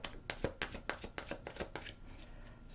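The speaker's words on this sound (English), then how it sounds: "One more shuffle." Tarot cards being shuffled by hand, a rapid run of about nine crisp riffling bursts followed by a softer settling rustle, close and fairly loud with no talking.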